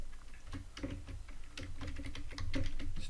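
Fingers type Java code on a computer keyboard in a quick, uneven patter of soft key clicks, heard faintly and close over a low room hum.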